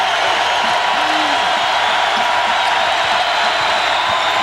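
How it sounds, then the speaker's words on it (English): Steady, loud roar of a packed basketball arena crowd at Purdue versus Indiana, cheering continuously with a wash of noise and no breaks, a faint voice surfacing briefly. "This crowd is alive."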